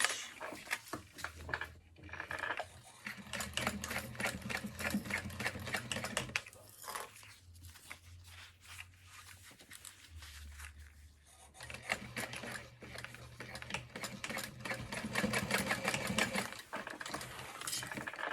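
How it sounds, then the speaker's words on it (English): Top stitching on a handmade backpack with a sewing machine, long runs of quick mechanical needle chatter with a low motor hum, pausing briefly midway before continuing at close range. "And then you can iron and sew"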